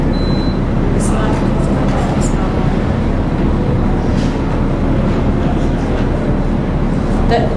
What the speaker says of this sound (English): It's the trucks idling outside.